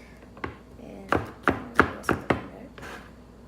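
Garlic is chopped on a board for lechon paksiw, six close, crisp knife strikes, one alone and then five in quick uneven succession.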